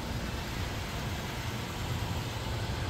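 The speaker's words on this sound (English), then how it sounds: "You can hear the engine's running nice and smooth." A 2020 Toyota Tacoma pickup idles at a steady, even hum, quiet and continuous, with no voices or other sounds.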